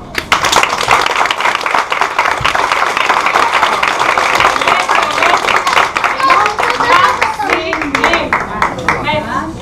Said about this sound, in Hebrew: ההורים והאורחים, מוחאים כפיים לילדים